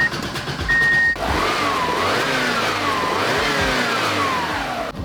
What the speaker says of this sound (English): Let's try to start this car and see if it runs any better.